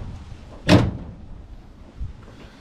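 A Nissan S13 car door, newly fitted with a door latch taken from a Safira, shuts once with a single sharp, solid thud, followed by a faint knock a moment later.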